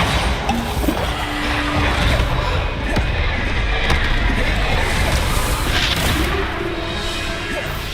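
A Bombarda spell explodes in the Hogwarts Legacy video game with loud, booming blasts and crashing debris over dense, continuous game noise.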